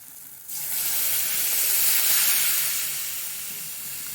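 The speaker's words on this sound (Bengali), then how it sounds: "ধারে ধারে এই যে পুড়ে আসছে সেই জন্য জল ঢেলে দেবো" Water is poured into a hot pan of fried fish and mango curry, bursting into a loud, steady sizzling hiss that swells, then eases slightly as it settles.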